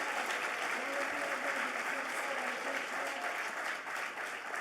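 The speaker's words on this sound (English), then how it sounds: "Please keep the applause going for yourselves on this glorious day, please." A large outdoor crowd applauding steadily at a community celebration, with dense, sustained clapping and faint cheering that carries on without a break.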